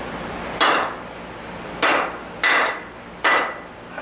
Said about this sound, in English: Go ahead, give it a whack.